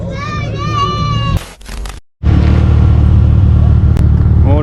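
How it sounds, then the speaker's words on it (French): A car drives with a loud steady engine rumble, briefly dropping out and cutting near silent for a moment as it shifts gear, then pulling hard again, with a voice audible early on. "Ah oui, tu passes les vitesses."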